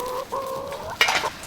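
Farm hens clucking out on pasture, a few drawn-out calls followed by a sharper burst of squawking, close and clear with no talk over them.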